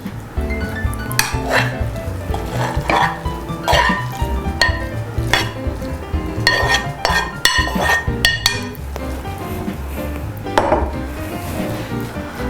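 Cooked rice being spooned onto a serving platter, with repeated clinks and scrapes of a metal spoon against dishes in an irregular rhythm, close and clear with no talking.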